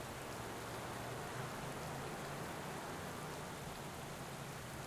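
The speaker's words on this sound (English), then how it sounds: "Starting to get a little rain-snow mix here." Steady rain falls as a uniform hiss in Pro Cycling Manager 2021, a cycling video game, during a rain-snow mix. It is soft and constant throughout, with no voices.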